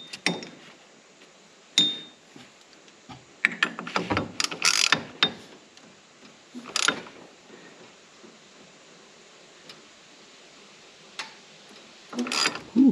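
Filter wrench ratcheting and clicking against a Hydro Gear oil filter on a Hustler Raptor SD zero-turn mower, a few scattered mechanical clicks and scrapes with quiet pauses between them, close and fairly faint.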